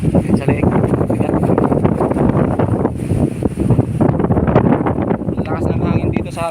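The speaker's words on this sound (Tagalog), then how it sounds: "Lakas ng hangin dito sa amin." Strong wind in a corn field during planting buffets the microphone in a steady, loud roar, with voices talking underneath throughout.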